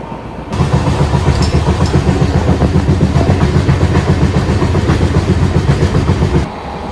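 Mau Express 15026 running at speed toward Kanpur Central, a loud, steady rumble of wheels on rail with a continuous rapid clickety-clack rhythm heard from inside the coach, no voices.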